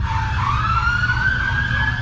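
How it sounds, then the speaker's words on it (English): Emergency vehicle sirens of first responders at a live concert emergency wail continuously, rising and falling in pitch over a low rumbling background, loud and fairly close. "You can hear sirens as first responders race to the scene"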